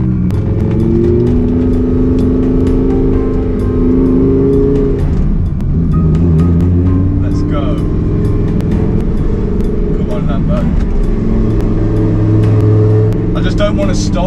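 A twin-turbo Lamborghini on the road, its engine humming loudly and steadily with rising and falling revs as it accelerates, someone talking over the cabin noise.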